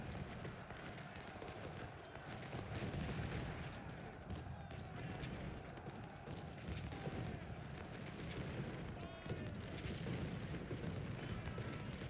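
Cannon fire in the Ultimate General: Civil War video game at the Battle of Stones River, a continuous rumbling barrage of artillery booms and musketry under a steady, dense battle din, with no talk.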